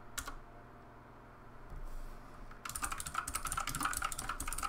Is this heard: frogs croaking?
no